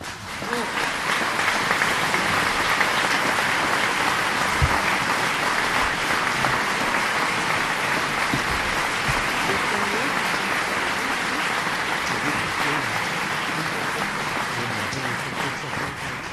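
An audience at the Fabrica during the Avignon Festival applauds steadily and loudly for around sixteen seconds, a dense unbroken wash of clapping that stays even throughout.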